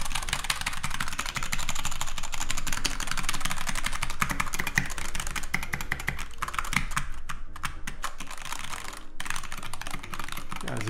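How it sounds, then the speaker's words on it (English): Rapid, continuous typing on an NK65 mechanical keyboard, dense clacking keystrokes close to the mic with no pauses for about eleven seconds, over a faint steady background hum. "it's got a nice firm typing feel"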